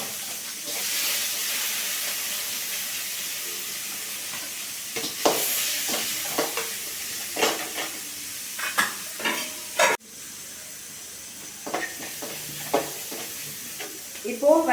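Chopped onion sautés in a pan for a goat trotter rasam, giving a steady sizzling hiss close by, with intermittent stirring scrapes and clanks of a spoon against the pan.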